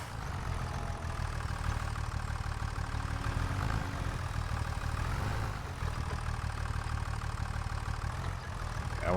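Tractor engine idling in a logging roleplay game, a steady low rumbling hum that dips briefly midway before resuming, with no talk over it.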